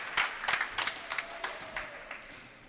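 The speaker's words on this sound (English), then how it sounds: "older sister Megan gets a nice round of applause" A crowd at a basketball game claps for a player, older sister Megan, who finished the night with 14 points; a fairly quiet, steady round of scattered applause heard from a distance.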